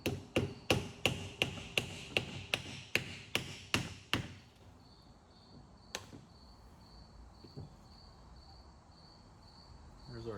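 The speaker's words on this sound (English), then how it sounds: "So I'm going to get a little screwdriver and a hammer, just tap the seal out of here." A hammer strikes a screwdriver to tap a seal out of a rear differential, about a dozen sharp metallic taps in a quick even rhythm, followed by quieter shop ambience with a high whine and an isolated later knock.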